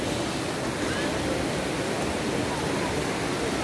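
Sea waves surging onto the shore and flooding around houses, a continuous loud rushing wash with wind buffeting the microphone.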